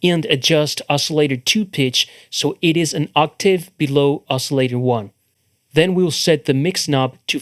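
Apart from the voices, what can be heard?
No distinct noise like a dog, phone or traffic.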